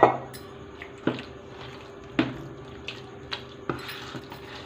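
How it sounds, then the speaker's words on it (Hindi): Water is added to a wheat flour and potato batter seasoned with garam masala and coriander leaves. Soft, faint wet drips and squishes come about once a second, with no talk. "इसमें हम और थोड़ा सा पानी डालेंगे।"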